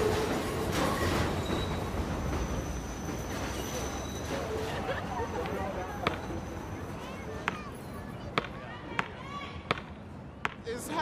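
A subway train rumbles past in a city neighborhood, a broad rolling roar that thins out over several seconds and gives way to sharp metallic clacks from the wheels, with people talking underneath.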